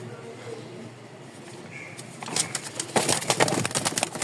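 Rajshahi Giribaz pigeons for sale in Mirpur-1, including a light-coloured biscuit pair, give soft low murmurs that build into fluttering, rustling bursts in the second half, close by.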